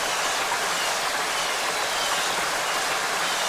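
Synthesized high-quality rain in its finished form, a dense, steady broadband hiss of countless drops that holds an even loudness from start to finish with no voices.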